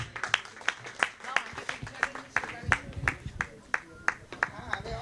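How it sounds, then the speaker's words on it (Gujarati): An audience at a stage event in Ahmedabad claps together in a steady, rhythmic run of sharp, fairly close claps, about three per second, lasting throughout. "જોરદાર તાળીઓ ફરી એકવાર"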